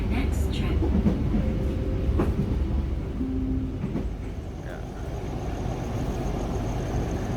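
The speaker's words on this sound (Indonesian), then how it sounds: "Kereta api Singasari masuk stasiun Bumi Ayu" The Singasari passenger train rumbles steadily as it rolls into Bumiayu station in Indonesia, with a low continuous drone, faint clicks and a brief tonal squeal midway, under some background talk.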